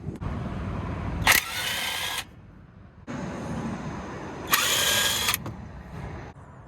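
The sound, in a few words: unbolting brake caliper bolts during brake pad replacement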